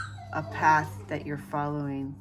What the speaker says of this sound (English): to let my dogs out of the room. You could probably hear them crying.